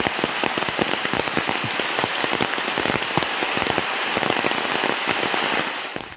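Heavy rain drums steadily on an umbrella outdoors in Manaus, Brazil, a dense, close patter of crackling drops that holds loud throughout.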